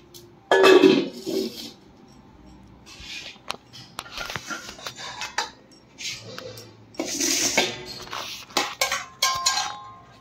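Metal plates and cutlery clink and clatter as a puja offering is arranged for Radhashtami, in a string of close, irregular knocks and jingles, some louder bursts with quieter handling between.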